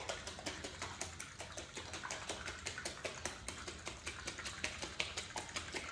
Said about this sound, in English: return the lid to the jar and give it a really good shake